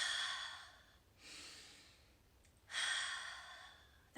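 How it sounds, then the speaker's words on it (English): Deep, slow breaths drawn in and let out close to the microphone, with three breathy swells of air separated by short quiet gaps and no talk. "just taking those deeper breaths"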